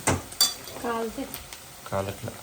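Onions fry in a pan as the base for a curry gravy, giving an intermittent sizzle. A spoon stirs them, scraping and clinking against the pan in short bursts.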